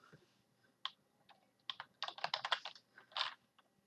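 Quick bursts of typing on a computer keyboard as a spreadsheet formula is entered, a few scattered keystrokes building into a dense run of clicks, close-up over a faint background hiss, no voices.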